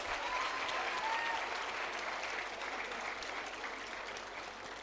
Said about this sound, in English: Keep the applause flowing, please.